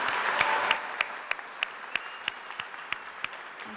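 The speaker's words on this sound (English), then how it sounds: "Could you all please give everybody a round of applause" A graduation ceremony audience applauds, a broad patter of clapping that thins out into a few sharp, evenly spaced claps.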